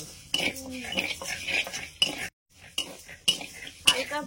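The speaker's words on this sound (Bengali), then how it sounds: "মুগ ডাল শুকনো করাতে হালকা ভেজে নিয়ে চলে যাবে" Mung dal is dry roasted lightly in a pan, with repeated close scraping and clinking of a metal utensil against the pan in uneven strokes, separated by a brief pause.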